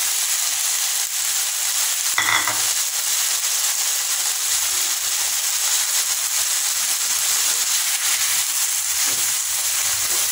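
Tomato paste and boiled peas fry in a pan for pasta, a steady broad hiss of sizzling that runs unbroken throughout, with one brief louder burst near the start.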